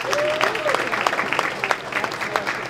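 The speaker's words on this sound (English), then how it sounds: "Can we please give another round of applause to all of the amazing performances tonight?" A crowd at a school jazz coffeehouse applauds after the performances, dense steady clapping with a few whoops, while a voice speaks over it.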